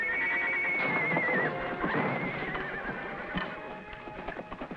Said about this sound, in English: That must be the kid's horse.